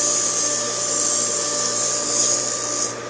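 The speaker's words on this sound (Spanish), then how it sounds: "se le va quitando todo el óxido." Continuous loud abrasive rubbing of sandpaper scraping rust off a running centrifugal pump motor, over a steady motor hum with a constant tone, close and unbroken throughout.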